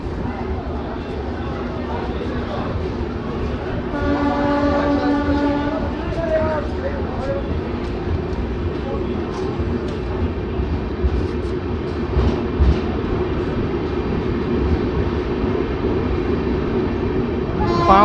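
Rupasi Bangla Express stopped or slowly moving at Bankura station, a low steady rail rumble with a tonal horn or whistle sounding briefly, people talking nearby.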